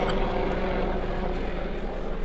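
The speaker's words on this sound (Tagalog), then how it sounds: "May dumaang helicopter." A helicopter passes overhead outdoors on a sunny, cool day, heard as a steady, loud, continuous rotor-and-engine rumble with a broad roar that holds level throughout.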